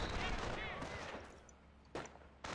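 Machine-gun fire in a video game battle, with Americans against early Pumas. Rattling bursts of gunfire dominate the opening, and sharp shots return near the end, all fairly close and loud.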